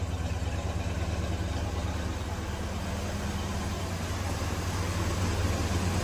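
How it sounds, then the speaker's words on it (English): A 1969 Ford Cobra engine idles shortly after a cold start with a steady, low, rumbling burble, loud and continuous throughout with no talk over it. "I love the sound of this car."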